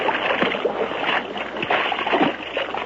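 Someone wading out into the middle of a cold Alaskan creek, with several splashes and sloshes of water against legs at uneven intervals, close and fairly loud over a running-water background.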